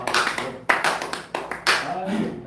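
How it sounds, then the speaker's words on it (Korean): Audience applause after a lecture by a pastor at a spirituality course, a brief burst of clapping with sharp hand claps rising and falling in waves, fairly close and alone. "다시 한번 큰 박수 부탁드립니다"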